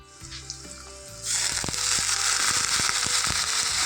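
Chopped onion hits hot oil in a pan, jumping from a quiet hum into a loud, steady sizzle that carries on, punctuated by a few sharp crackles and spatters.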